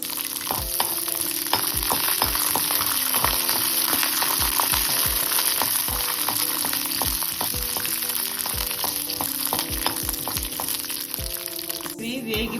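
Half a cup of peanuts fry in a little oil in a kadai, a steady loud sizzle with crackles and regular clinks of a stirring spoon against the pan, heard alone without talk.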